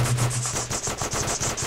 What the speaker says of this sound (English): I love just shooting with my machine gun randomly because it is so useful.